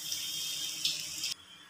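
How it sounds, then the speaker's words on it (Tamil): Water streams steadily into a cooking pan of chili powder, garam masala and turmeric for masala sundal, a close, continuous splashing hiss that cuts off abruptly near the end. "மிக்சி அளவில் தண்ணியை விட்டுருங்க."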